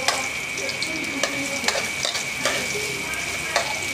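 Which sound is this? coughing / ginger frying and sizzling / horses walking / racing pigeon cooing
ginger frying and sizzling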